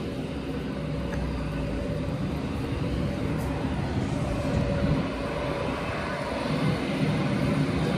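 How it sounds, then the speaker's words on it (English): Airplane engines roar steadily at an airport, a broad continuous drone that holds at moderate, somewhat distant volume with no voices. "There's our plane."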